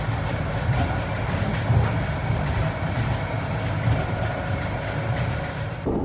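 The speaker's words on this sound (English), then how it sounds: "And we're getting the next tram to the next station." A Melbourne tram rolling along a former train line toward St Kilda, heard from on board as a loud, continuous rumble with rhythmic rail clatter throughout.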